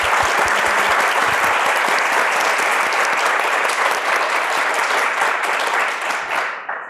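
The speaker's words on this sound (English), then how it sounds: "Let's give everyone another round of applause." An audience at the close of a talk on digital futures applauds in a dense, sustained burst of clapping that fades slightly near the end, with no talking over it.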